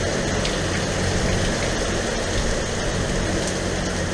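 Heavy tropical downpour drumming on the sea and deck of a sailboat under delivery near Nevis in the Antilles, a dense, steady hiss with no talk, loud and unbroken throughout.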